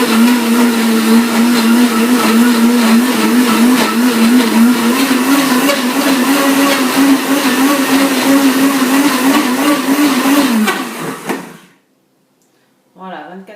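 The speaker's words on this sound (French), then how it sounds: "Et attention, ça va faire de bruit." A countertop blender purees mango into a smoothie, grinding loudly and steadily up close for about ten seconds before winding down and stopping, followed by a short clatter.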